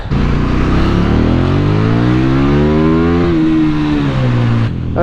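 A KTM 1290 Super Duke motorcycle engine revs up steadily, its pitch climbing then easing back, loud and close for about five seconds.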